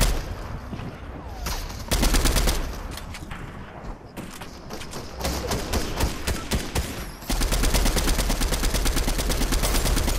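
Dense, loud video-game gunfire, with sniper shots from far away mixed into sustained automatic bursts, hammers on for about ten seconds and swells louder near the end.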